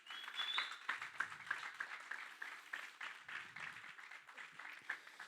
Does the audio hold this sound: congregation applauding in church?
yes